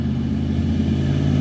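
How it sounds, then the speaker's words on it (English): A 1986 Pontiac car engine idles steadily and loudly close by, a low even rumble with no talking over it. "That's a good running car."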